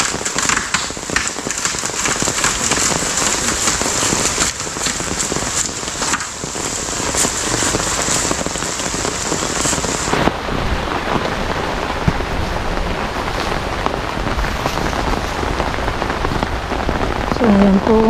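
Heavy rain pours down steadily on a farm during avocado and vegetable planting, a dense, loud hiss of drops striking surfaces throughout, with a faint voice near the end.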